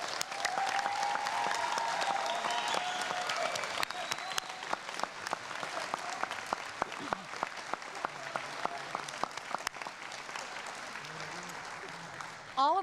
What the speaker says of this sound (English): Would you join me in a round of applause for our entire group of the Medallion Society?